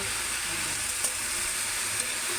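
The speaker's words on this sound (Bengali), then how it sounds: "আমি তেলের ভিতরে এটা ভেজে নেব" Sweet pumpkin frying in oil, an even, continuous close sizzle with a soft hiss and a couple of faint clicks, no voices.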